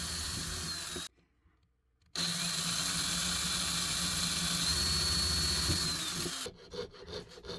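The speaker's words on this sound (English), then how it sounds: "I grabbed my drill and I drilled the holes." A power drill bores holes through copper sheet for plique-a-jour enamel earrings, a steady loud whirring grind that stops for about a second, resumes for several seconds, then cuts out near the end.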